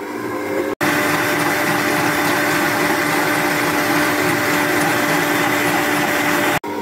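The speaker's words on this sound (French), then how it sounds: "je commence à mélanger d'abord mes blancs. Je fais d'abord monter un peu en neige avant de commencer à mettre le sucre" An electric mixer whips egg whites toward soft peaks for a rolled sponge cake, a steady close whirring drone running nearly unbroken, with a brief cut near the start and another near the end.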